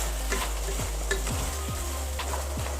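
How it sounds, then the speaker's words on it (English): Pasta masala being stirred in a pan after cooking with vegetables under a lid, a steady sizzle with repeated rhythmic scrapes of a spoon against the pan, close and even, no talking. "Now mix it once"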